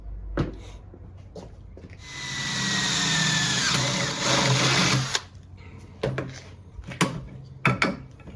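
Power drill enlarging a hole in the trunk of a 2018 Honda Accord: a steady, loud whine for about three seconds, framed by clicks and handling knocks.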